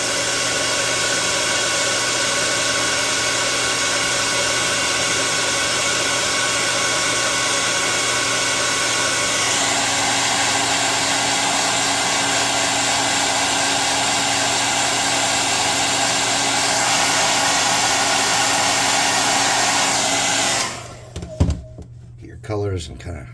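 A hair dryer blows steadily and loudly on paint on a hand-drawn puzzle map, a constant close whooshing hum lasting about twenty seconds before cutting off, followed by a few knocks and handling sounds.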